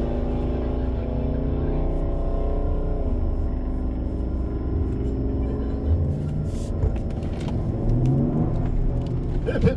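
A G-body car and a 2020 Ford Explorer ST run a quarter-mile drag race at a test and tune session, engines roaring and revving loudly with pitch climbs through gear changes, faint voices in the background.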